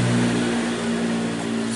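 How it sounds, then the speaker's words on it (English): A vehicle engine passes nearby with a steady, loud hum and slight rise in revs, heard alone without talk. "Alright, hold on, there's the vehicle."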